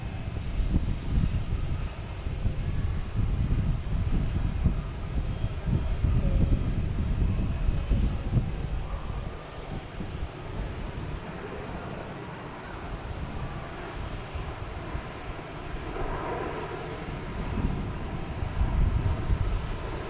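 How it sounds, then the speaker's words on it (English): Airplanes take off on runway 9 at Boston Logan Airport. A loud, sustained low rumble and roar of aircraft engines fills the whole stretch, with no voices over it. "they're using runways 4 right and 4 left. And they're taking off on runway 9."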